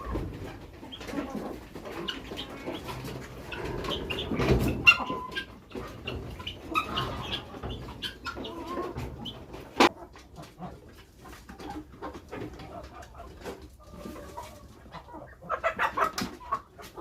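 Chickens on a poultry farm cluck and chatter steadily over a busy outdoor background, with scattered calls from other birds and a sharp knock partway through.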